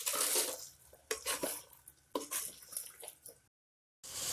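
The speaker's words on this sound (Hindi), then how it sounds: "मसाले के साथ हम इसे अच्छे से मिक्स कर लेंगे।" Chicken with spices is stirred in a cooking pot, giving scraping, clinking strokes with soft wet squishes in short bursts and a brief silent gap, with no talking over it.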